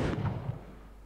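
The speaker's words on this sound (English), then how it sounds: "You can see here it's a shockwave explosion." A shockwave explosion effect from the GameGuru game engine gives a quiet, low boom with a brief rumbling burst that fades into a lingering low tail.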